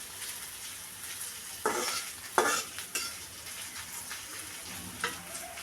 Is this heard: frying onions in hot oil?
yes